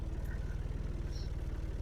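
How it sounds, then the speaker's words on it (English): A farm tractor engine running in a rolling pasture, a steady low chugging rumble with a regular throb, fairly faint and continuous. "I don't know how well you can hear us over the tractor,"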